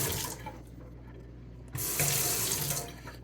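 Tap water runs over an espresso machine's steam wand, splashing close into a sink. The flow is softer at first, then louder and fuller after about a second and a half.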